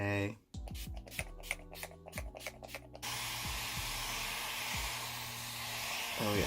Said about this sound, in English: Now I'm just going to do some setting spray.